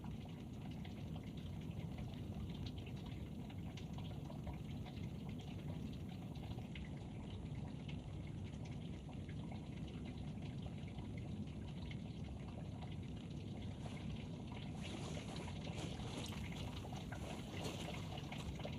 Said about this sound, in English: can hear the water draining in the washing machine.